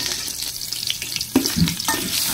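Ingredients for beef sinigang sauté in a hot pan, a steady sizzling hiss with occasional stirring scrapes and a couple of louder bursts as food is moved.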